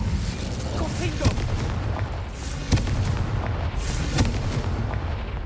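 Confringo blasting spells in the video game Hogwarts Legacy set off a few sharp booms over a dense, continuous wash of game noise.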